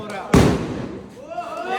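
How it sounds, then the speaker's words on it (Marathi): A single loud firecracker bang bursts out during Holi celebrations, followed by a fading rumble, with excited voices calling out around it. "धना का फटाके"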